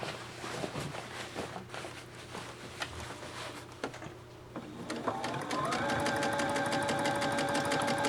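A sewing machine with regular sewing thread stitches an apron seam, first in short uneven runs, then settling into a loud, steady, fast mechanical whir close by.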